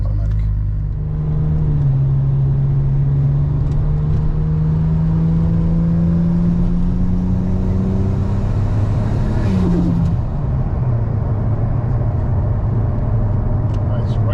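A GS Turbo car with automatic transmission accelerates on a highway. Its engine drones steadily and climbs in pitch, then shifts down around the tenth second. A loud, continuous road rumble sits under it.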